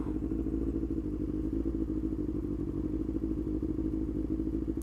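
A motorcycle engine rumbles steadily close by while the bike is ridden through city traffic, with no mirrors fitted, a continuous low drone with slight clatter and no speech.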